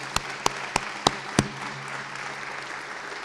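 A few sharp, separate claps ring out at a university athletics hall of fame reception honoring inductees, five or so distinct hand claps in a small room rather than sustained crowd applause, quiet afterward.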